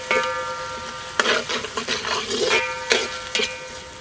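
Chopped onions for mushroom pulao fry in a pan, a soft sizzle under repeated scraping and stirring strokes that come in uneven bursts, close by.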